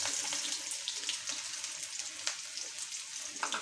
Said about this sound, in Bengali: এখন দিয়ে দিচ্ছি পেঁয়াজ আর রসুন কুচি।